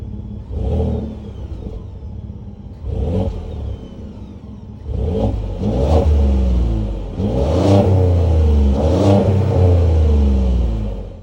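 A 2022 Ford F-150 Platinum's 3.5 liter twin turbo EcoBoost V6 is revved several times, each burst of throttle rising and falling, with short idle pauses between, close and loud.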